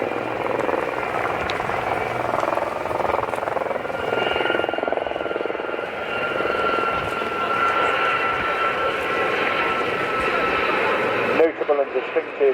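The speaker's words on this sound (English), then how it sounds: "And distinctive whine coming from the engine." A Global 6000 business jet flies past at an air show, its engine giving a sustained, loud whine with a broad roar underneath that holds steady for about eleven seconds before cutting off sharply.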